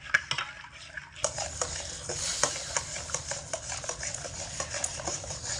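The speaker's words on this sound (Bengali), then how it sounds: "খুব ভালো করে চিনি, দুধ আর শেষে যে গুঁড়ো দুধ দিয়েছি খুব ভালো করে একসঙ্গে মিশিয়ে নেব।" Sugar, milk and milk powder stirred together in a pan for a kheersa filling, a steady scraping and clinking of a utensil against metal in quick repeated strokes, close and fairly loud, with no talk.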